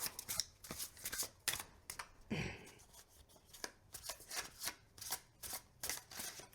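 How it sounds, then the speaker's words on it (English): Tarot cards are shuffled overhand by hand in quick, rhythmic swishing strokes, each pass a soft papery flutter, close up with no talking. "So overhand shuffle."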